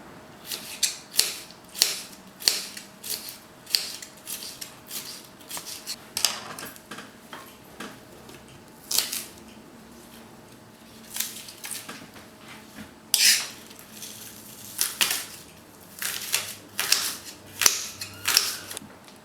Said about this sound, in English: So just need to wash and dry the vegetables and then finely chop them.